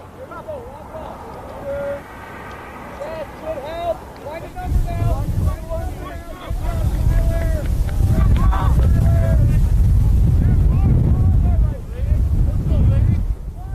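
Wind buffets the microphone outdoors at a game, building from a light rush into a loud, steady low rumble that mostly drowns out the voices.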